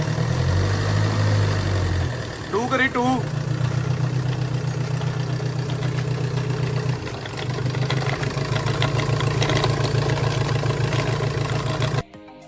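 A Tata Safari 4x4 runs on a lift with its four-wheel drive engaged, a loud, steady low engine drone with a vibrating rattle underneath. A voice speaks briefly near the start, and the engine cuts off at the very end.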